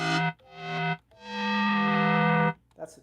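A Darth Mode effect preset on an Elektron Tonverk sampler turns a sustained tone into a heavily processed, distorted sound, heard as three held notes with stops between them, loud and close, with no talk.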